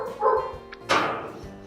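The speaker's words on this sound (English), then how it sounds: "barking, annoying Labrador" A Labrador barks close by: a couple of sharp, loud barks with a short gap between them and a faint whine in the background.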